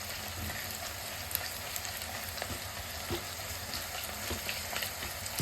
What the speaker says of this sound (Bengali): তেলটা গরম হয়ে গেছে, পেঁয়াজ দিয়ে দিচ্ছি। আর গ্যাসটা মিডিয়াম রেখে আমি পেঁয়াজটা ভেজে নেব।